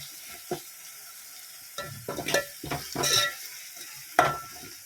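Ginger and garlic fry in a pan for a potato curry, with a soft steady sizzle and several louder bursts of stirring and scraping against the pan, close by and without talk.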